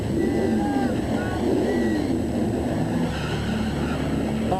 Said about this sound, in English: Genuine draft Rusty Wallace stock car.